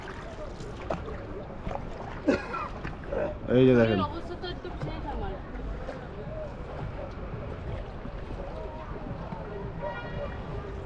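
A wooden passenger boat travelling on the Dawki River, a low steady engine drone and water wash beneath close conversational speech and distant chatter from other passengers.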